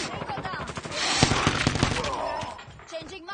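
Rapid automatic fire from a Cordite gun in the Call of Duty Mobile video game, dense bursts of shots over about three seconds amid game effects and voices.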